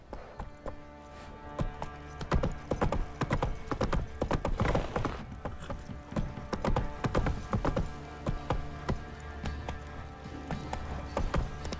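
Horse hooves galloping in The Witcher 3: Wild Hunt on PS5, a steady rapid clip-clop of hoofbeats on the ground that carries on throughout at moderate volume, with no talking.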